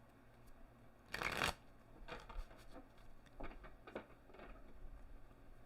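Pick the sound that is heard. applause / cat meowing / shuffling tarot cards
shuffling tarot cards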